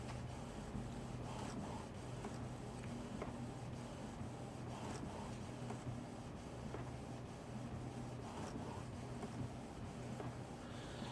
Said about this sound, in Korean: 자, 이제 용지가 나오기 시작합니다.